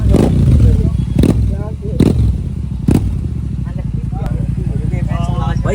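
A Royal Enfield GT650 motorcycle fitted with a Growler exhaust, without a dB killer, rumbles loudly and steadily up close with a few sharp revs and pops, while people talk over it throughout.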